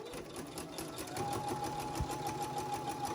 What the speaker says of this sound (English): do a little bit of back stitch when I get to the corner